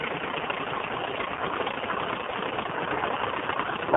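A 1945 US Navy primary training airplane's engine idles steadily before taxiing, a continuous close, loud drone with no talk over it.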